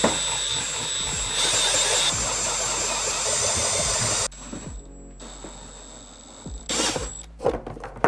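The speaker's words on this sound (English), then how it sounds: "with our pilot holes drilled out, we can go ahead and enlarge these holes using a paddle bit here" A power drill fitted with a 7/8-inch paddle bit enlarging pilot holes, heard as a loud, sustained whirring drone that stops abruptly midway, followed by quieter clicks and a short burst of renewed drilling near the end.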